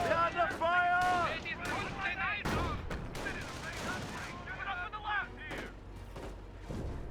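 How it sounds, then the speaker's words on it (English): Mixed battlefield gunfire and explosions crackle in a Company of Heroes 1 replay as troops are under fire near a forward base, steady distant shots under tonal game voice lines and effects. "Taking enemy fire"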